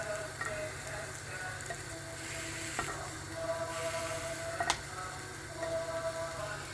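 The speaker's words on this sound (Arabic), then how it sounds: "الثوم نحطو بالقشور نتاعو باش ما يتحرقش" Unpeeled garlic cloves frying in a pan at home during Eid al-Adha cooking in Tunisia, a soft continuous sizzle broken by small ticks and pops, fairly quiet and heard alone.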